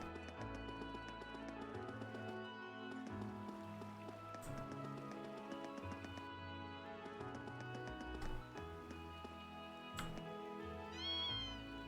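Cat meowing in the game Trails of Cold Steel, a few soft meows over layered music and a rain-like ambient patter, no talk.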